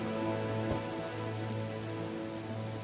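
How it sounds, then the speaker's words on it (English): Steady rain in a video game, a dense, even patter on surfaces that holds close and constant throughout, with one brief low thump near the start. "Really good rain sounds, though."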